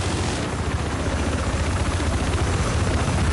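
A helicopter in the Battlefield 4 video game, a loud, steady rotor thrum with a dense roar that fills the whole stretch without pause, close and dominant, with no talk.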